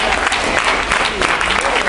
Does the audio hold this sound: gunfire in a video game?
no